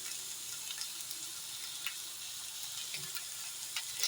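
Drumsticks with salt cook in a frying pan, giving a steady, soft, continuous sizzle with a few faint scrapes as they are stirred.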